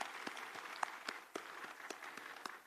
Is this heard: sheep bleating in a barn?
no